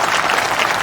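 Audience applause at a women's college inauguration event in a village, a dense continuous burst of clapping from a crowd, loud and steady.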